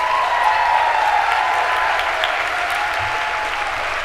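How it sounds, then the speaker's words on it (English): Loud, steady applause from a celebration audience, continuous and dense throughout the short span with no talk over it. "let's give a huge round of applause to these dedicated women"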